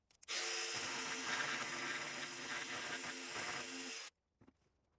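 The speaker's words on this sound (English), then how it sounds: "I will use my coping saw, my coping jigsaw to cut around that baseboard." A Milwaukee M12 jigsaw with a Collins coping foot buzzes steadily through wooden baseboard for about four seconds, then stops sharply, leaving near silence.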